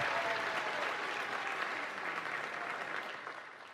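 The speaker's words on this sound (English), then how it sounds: "Give her a round of applause." An audience welcomes a nationally renowned speaker with dense, sustained applause filling a room, steady and fairly loud before gradually tapering.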